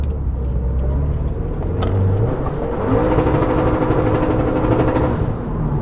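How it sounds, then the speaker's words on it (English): A car engine revs hard and holds against the rev limiter during a drive, a loud, steady droning roar with a pulsing, bouncing edge that rises and stays strained for several seconds, with no talk over it. "Well, the rev limiter still works then."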